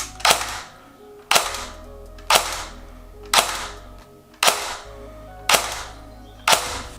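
ARES AR-003 L85A2 airsoft replica dry-firing on semi-auto with no magazine or BB: seven sharp, evenly spaced shots, each a loud snap with a ringing spring twang trailing off, close and alone.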